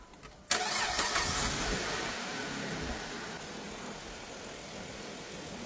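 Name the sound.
2008 Dodge Avenger engine starting and running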